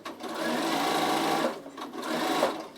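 A Bernina sewing machine stitches fabric for a storage basket. The motor hums steadily up close, eases off briefly, then runs again.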